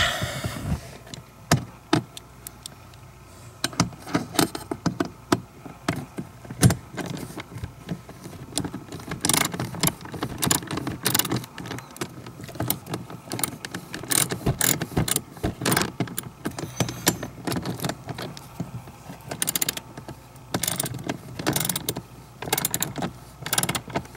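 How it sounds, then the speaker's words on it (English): A socket wrench tightens a bolt while cupholders are fitted in a DeLorean DMC-12, with close, dense bursts of ratcheting clicks and metallic knocks running throughout. "I'm going to go ahead and tighten that up with a socket."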